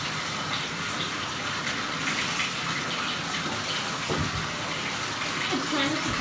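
Running water gushes steadily while shampoo is rinsed off a dog during a bath, a continuous close splashing wash with a faint voice briefly underneath.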